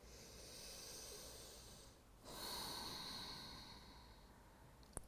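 Deep yoga breathing: a long, hissing inhale followed by a brief pause and a strong, airy exhale, quiet and close, ending with a small click.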